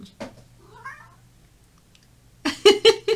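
A cat meows close by: a short call, a softer rising mew, then a louder run of quick meows at the end.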